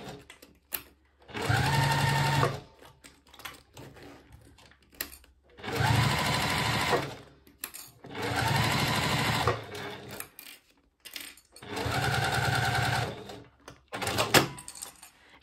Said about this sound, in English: now I'm going to take it to the sewing machine and stitch all the way around the perimeter of the pouch using 1/8 inch seam allowance.